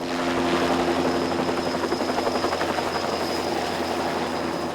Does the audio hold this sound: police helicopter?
yes